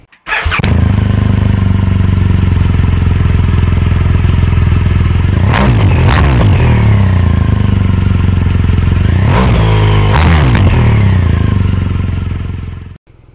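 The air-cooled boxer engine of a 2019 BMW R nineT Scrambler starts and idles with a loud, close, lumpy throb, punctuated by three sharp throttle blips that rev up and fall back before it cuts off.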